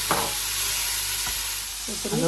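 Crab meat and tomato stirred and fried in a pan, a steady close sizzle with a few scraping strokes of a spoon against the pan.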